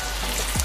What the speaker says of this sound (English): Turn back up the stove so it will sizzle and kind of cook our onion and stuff a bit.